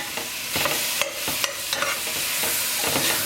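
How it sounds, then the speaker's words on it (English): Whole mushrooms being stirred into pilau in a pot, a spoon scraping and knocking in quick repeated strokes over a soft steady sizzle, close and fairly loud. "We're gonna mix this in."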